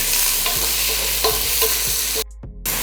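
Sliced onions and curry leaves fry in hot oil in a pan as they are stirred, giving a steady close sizzle with scraping spoon strokes and a brief drop near the end.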